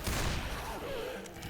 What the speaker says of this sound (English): So I was just shooting randomly in the elevator because I thought it was going to be behind the elevator